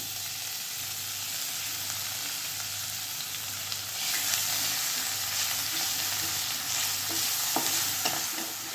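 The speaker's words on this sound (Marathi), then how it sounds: "छान असं फ्राय करून घ्यायचं लो फ्लेमवरती अद्रक लसूण कोथिंबीर" Ginger, garlic and coriander paste frying in hot oil over a low flame, a steady broadband sizzle with soft stirring scrapes, growing slightly louder midway, close and with no voices.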